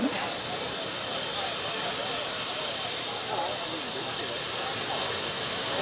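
A helicopter turbine engine fitted to a tractor-pulling rig is running at a county fair pull, giving a loud, constant jet-like roar and hiss that fills the whole stretch without change.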